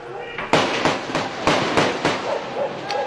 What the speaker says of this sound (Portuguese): Ele dá um tiro.